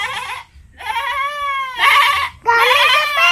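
A sacrificial goat bleats in three loud, wavering calls, each about a second long with short gaps between them, close to the microphone with no talk over it.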